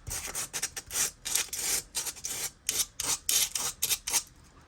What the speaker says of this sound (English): I just take some, this is 220 grit sandpaper,